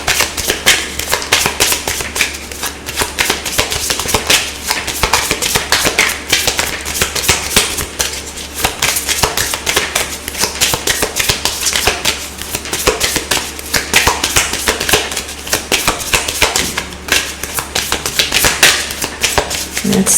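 Tarot cards are shuffled and handled close up in a continuous, dense run of rapid papery flicks and taps that stays loud and busy throughout.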